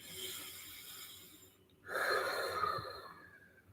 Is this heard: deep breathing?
yes